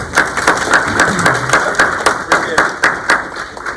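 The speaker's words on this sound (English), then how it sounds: "y'all give a round of applause to Ben" A small workshop audience at a downtown marketing session claps for the speaker, Ben: a thin, sparse patter of individual claps in a fairly steady rhythm, close and distinct rather than a full roar.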